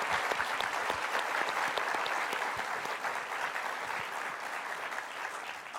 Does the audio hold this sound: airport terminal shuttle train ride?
no